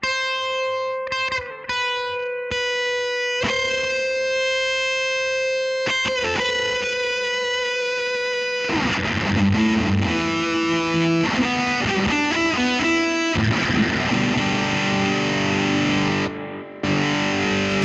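An electric guitar played through a fuzz pedal, Polyverbs reverb and Mimic 2 delay into a 1964 Fender Showman amp, ringing sustained notes and then thick, saturated chords with echoing tails, loud and alone.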